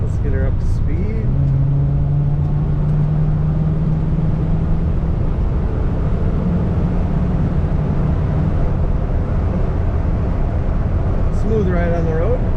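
A 1977 Pontiac Trans Am tribute car accelerating on the road, its engine note rising steadily under someone speaking over the cabin noise.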